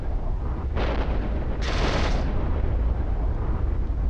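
Smart bomb detonations from a Punisher frigate in the EVE Online space game, two loud rushing bursts in quick succession over a steady low rumble, with no talking.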